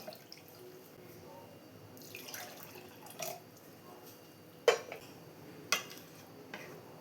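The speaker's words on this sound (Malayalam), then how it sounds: "ഇനി പുട്ടുപൊടി എടുത്ത അതേ കപ്പിൽ തന്നെ 2 കപ്പ് വെള്ളം കൂടെ ഒഴിച്ചു കൊടുക്കാം" Two cups of water poured into puttu flour in a bowl, faint splashing with a few sharp clinks of the cup against the vessel, close and quiet, no talking.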